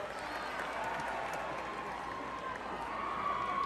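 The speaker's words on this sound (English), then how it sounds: "Why don't we give a round of applause to Mr. Pooh?" Concert crowd in a large arena giving a steady, distant wash of applause and cheering that holds evenly for a few seconds, with faint voices mixed in.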